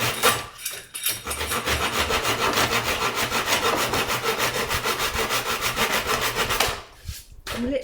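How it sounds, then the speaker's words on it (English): A hole saw cuts through the wooden floor of a camper van, making a loud, steady rasping saw noise with rapid rhythmic strokes that runs continuously for several seconds before stopping near the end. "So I've just cut a hole in my floor with the hole saw."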